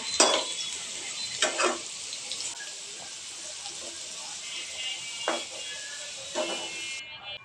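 Potatoes frying in oil for a folui fish kofta: a constant bright sizzle runs for about seven seconds, with a few clunks of a utensil against the pan near the start and later on.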